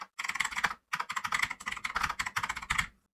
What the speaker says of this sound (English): I will select the font. Here it is. And type anything.